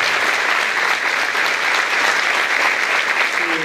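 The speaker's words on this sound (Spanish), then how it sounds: "quisiera el aplauso para todos los empleados municipales" A crowd at a women's tea event organized by the local government applauds municipal employees with sustained, even clapping that stays loud throughout.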